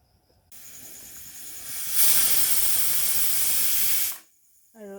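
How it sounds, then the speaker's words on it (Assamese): A pressure cooker cooking mutton paya gravy lets off its whistle, a sudden loud rush of hissing steam that swells, holds steady for a few seconds, then cuts off abruptly. "আৰু এতিয়া মোৰ হুইচেল আহি গ'ল কুকাৰটো।"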